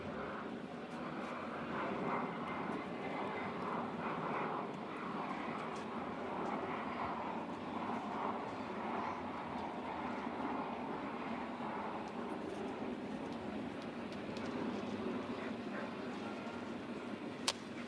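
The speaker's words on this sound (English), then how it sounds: "we just had a plane fly over" A plane flies over a baseball stadium, its engine making a steady, broad roar that holds evenly throughout, continuous and fairly loud, with no talk.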